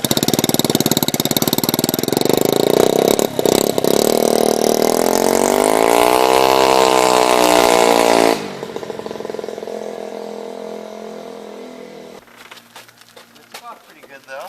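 A stretched, slammed moped's small engine runs loud and close, its pitch rising and wavering as it revs, then dropping off sharply to a quieter idle with clattering before fading.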